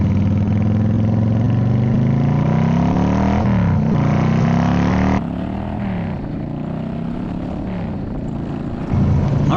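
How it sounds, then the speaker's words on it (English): A Yamaha VStar 650 motorcycle being ridden, its engine droning loud and close with rising and falling pitch as it accelerates and shifts gears, plus steady wind rush throughout. "we're gonna start out on the VStar 650 for this little ride test that we're doing"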